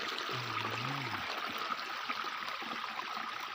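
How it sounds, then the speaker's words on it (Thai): A natural mountain stream runs and trickles continuously in a steady, close rush, with a brief low hum near the start. "น้ำไหล"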